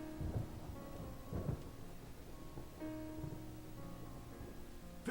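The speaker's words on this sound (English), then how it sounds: "A storm like that will keep us all indoors." A distant thunderstorm rolls low and soft, with several deep rumbling thunder swells in the first seconds over a faint, steady wash of rain and wind.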